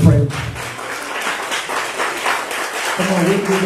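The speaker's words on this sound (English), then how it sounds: "Let's give God a round of applause." A church congregation applauds, a dense patter of many hands clapping at moderate volume, with voices and music tones at the start and end.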